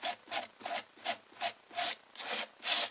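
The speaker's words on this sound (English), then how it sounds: "I'm just scraping it all off to make it smooth, just like if I was a cement layer." Modeling paste being scraped smooth across a surface with a palette knife, a rhythmic series of about nine rasping strokes, close and fairly loud, with no talking.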